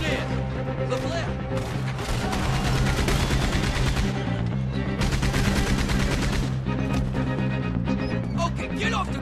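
A mounted gun fires in Red Dead Redemption 2 as loud bursts of rapid automatic gunfire come in long volleys close up, with short lulls and game noise between them.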